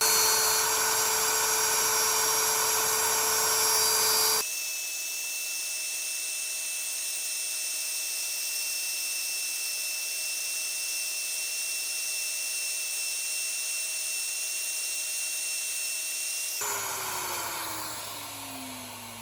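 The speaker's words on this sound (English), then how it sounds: "Now I'm going to route on the inside edge of the line, getting very close" Wood router cutting along the inside edge of an inlay line on a wooden humidor lid, a steady high-pitched whine held for about twelve seconds between rougher spin-up and wind-down, close and loud with no talk.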